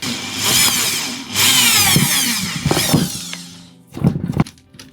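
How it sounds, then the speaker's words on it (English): A power drill whirs in several short bursts, its motor pitch rising and falling as it bites into metal while drilling out a rusted, stripped screw on a guitar, close by with clunks between runs. "I'm going to have to drill it out."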